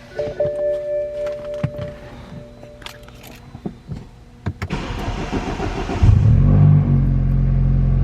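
BMW 328i F30 with the N20 engine, 180k miles, cranking over and firing up in a garage after a valve cover gasket job, then settling into a steady, loud idle rumble close to the car.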